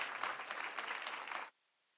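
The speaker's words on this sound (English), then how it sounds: "let's give a rousing round of applause for Professor Washington." Brief audience applause at an MLK Day talk, a dense burst of clapping lasting about a second and a half before cutting off abruptly into silence.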